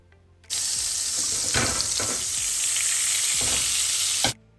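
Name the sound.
butter sizzling in frying pan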